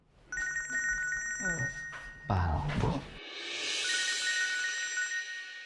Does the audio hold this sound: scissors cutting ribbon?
no